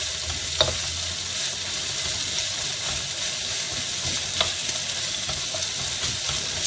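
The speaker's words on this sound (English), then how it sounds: "Stir fry till you see the onions have softened a little." Beef and onions stir-fry in a hot pan with a steady, dense sizzle and a few faint scrapes of stirring, loud and close, with no talk over it.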